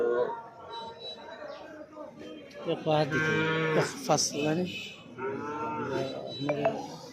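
Cattle moo loudly and close by at the Tengra Bazar cattle market, several long bellowing calls, with people talking amid a busy outdoor bustle.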